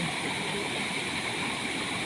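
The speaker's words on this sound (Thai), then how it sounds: "น้ำไหลคักๆ" A stream flows strongly with a dense, steady rushing roar, close and unbroken.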